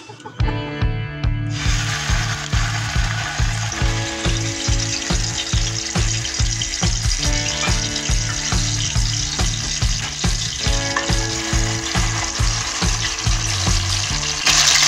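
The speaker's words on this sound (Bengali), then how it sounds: "ফোড়নটা ভাজা হয়ে গেছে, এবার বেটে রাখা এই মশলাটা আমি এর মধ্যে দিয়ে দেব।" Ground spice paste hits hot oil with fried tempering for a vegetarian cauliflower curry, raising a loud, continuous sizzle under a steady rhythmic scrape of a spatula stirring the pan.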